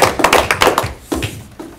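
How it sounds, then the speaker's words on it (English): A brief round of applause at a school district board of education meeting: a small group clapping nearby in a short burst of uneven claps that quickly thin out and stop. "Thank you very much, and a round of applause."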